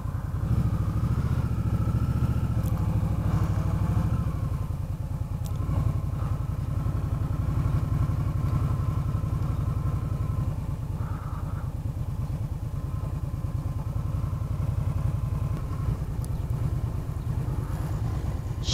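A Rebel motorcycle being ridden, its mid-pitched engine droning steadily for close to twenty seconds with the pitch shifting as gears change, heard up close without talk.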